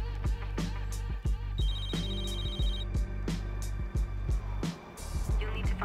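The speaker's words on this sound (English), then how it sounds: "I've got a phone." An in-game phone rings in Gangstar: Miami Vindication with a repeated electronic trill, set against steady engine-like background noise and intermittent thuds.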